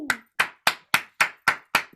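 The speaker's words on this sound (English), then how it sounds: "Let's give a round of applause for our boy RJ." Slow, evenly spaced hand claps for a podcast guest, seven sharp claps about a third of a second apart, close and distinct with silence between them.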